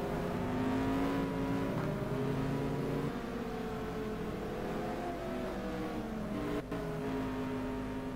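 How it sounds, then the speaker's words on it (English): A white BMW Z4 race car in a sim racing game at the Zolder circuit, its engine droning steadily and loudly with a constant whine and shifting pitch throughout, no voices present. "Great looking white BMW Z4. Of Nicholas Kent."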